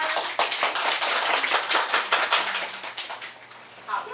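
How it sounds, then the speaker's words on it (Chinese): Applause from a school audience before a student music performance, close and lively hand clapping with crisp individual claps, fading somewhat toward the end. "让我们给予热烈的掌声"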